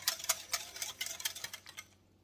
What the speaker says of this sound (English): I'm just going to whisk that up really good, making sure there's no lumps